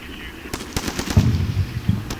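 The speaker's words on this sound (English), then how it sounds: "the enemy is mortaring or attempting to mortar my 3rd platoon and my initial overwatch positions, but the artillery is landing" Mortar and artillery fire in the war game Combat Mission: Shock Force, a quick burst of sharp, overlapping close blasts followed by a rumbling low boom, all within about two seconds.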